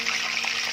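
Seasoned chicken pieces fry in hot oil for crispy fried chicken, giving a steady, close broadband sizzle with faint crackle, no voices.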